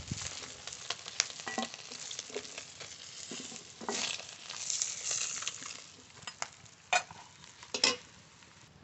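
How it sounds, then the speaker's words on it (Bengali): Koi fish frying in hot oil gives a steady close sizzle and crackle, with a few louder spits and pops near the end and no voices. "মাছ ভালো করে ভেজে নিয়েছি,"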